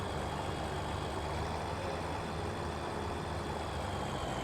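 Tractor engine idling in the farming game Farming Simulator 17, a steady low rumble that holds evenly throughout with no talk over it.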